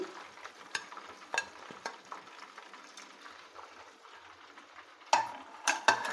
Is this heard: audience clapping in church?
no